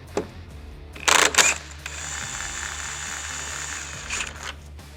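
A ratchet turns out headlight screws on a 2023.5-or-later Harley Road Glide. It gives one loud, close burst of rapid clicking, then a steady mechanical whir that continues until a short second burst near the end.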